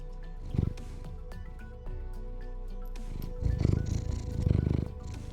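A cat purrs up close in soft, rhythmic low rumbling pulses, growing louder in a few swells near the end, over a faint background hum.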